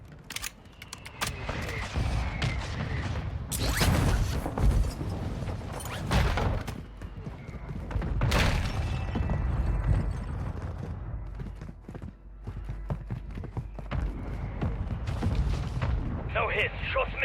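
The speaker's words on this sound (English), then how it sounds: "Requesting fire mission. Target. Copy that. Mortar strike inbound now." Mortar strike explosions in Call of Duty Warzone 2.0 on the Vondel map: repeated heavy booms and rumbling blasts over about seventeen seconds, mixed with in-game gunfire and radio voices talking.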